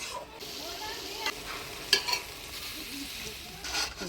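Water added to spinach frying in a pan, steady close sizzle with scraping stirs and a few louder clatters of the spoon against the pan.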